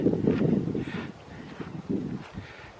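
Wind gusting across a park on a November morning, broad low rumbling gusts rising and falling in several waves, fairly close and steady with no voices.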